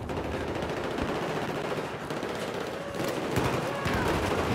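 An MP7 submachine gun in Battlefield 4 fires in rapid, crackling bursts over busy battlefield noise, the shots packed close together and rising slightly louder toward the end.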